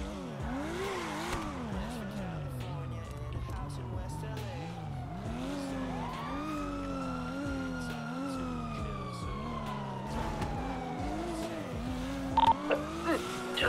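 Sirens from a pack of police cars in the game GTA wail continuously with rising and falling tones, layered over revving engines and screeching tires during a chase.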